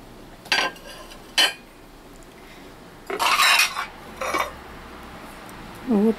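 Ceramic plates from a discount store being handled: several sharp clinks and clatters in separate bursts, with a longer rattling stretch in the middle, close up against quiet room noise.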